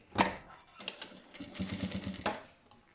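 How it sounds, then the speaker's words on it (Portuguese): A sewing machine topstitches a bag in short mechanical bursts of rapid needle clatter, close and fairly quiet, with brief pauses between runs. "vou pespontar aqui à medida do calcador"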